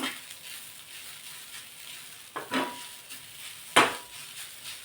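Fresh pigeon pea filling being stirred and dry-roasted in a pan for kachori, a soft steady sizzle with a few sharp scrapes and taps of the spoon against the pan.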